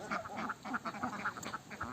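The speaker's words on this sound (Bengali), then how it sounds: "কিছু হাঁস এখনও নোংরা পানিতে নেমে আছে" Ducks quacking repeatedly and fairly close after bathing in clean water, several birds calling in a busy, overlapping chatter with no talk.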